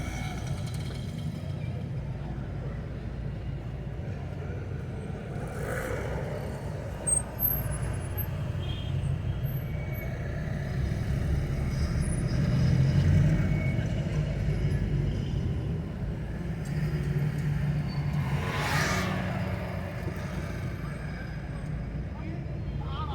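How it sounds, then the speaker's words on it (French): Busy car, taxi and motorbike traffic fills a crowded Marrakech street with a steady low rumble, engines passing, and occasional louder whooshes and knocks, while someone talks over it. "C'est beaucoup de voitures à Marrakech."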